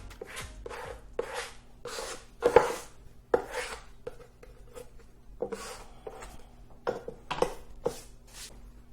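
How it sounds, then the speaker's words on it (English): Repeated rubbing strokes of a burnishing tool pressing a mask down onto an art board for an acrylic pour, about a dozen short scraping swipes at a steady rhythm, close and moderately loud, with no talking. "I'm going to burnish one more time."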